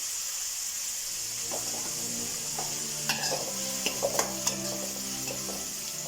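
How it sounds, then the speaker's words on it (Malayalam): Onions sautéed with salt in a pan, a low steady sizzle with scraping stirs and a few clinking knocks of utensil against metal, close and moderately loud, no speech. "നന്നായി വഴറ്റി കൊടുക്കാം."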